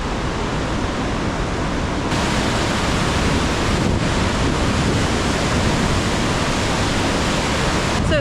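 A raging mountain river in Andorra roars as loud, continuous broadband rushing water, close and unbroken throughout.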